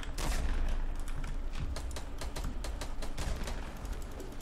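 Rapid gunfire in Fortnite, a continuous fusillade of sharp, closely spaced shots, loud and dense throughout, with no voices over it.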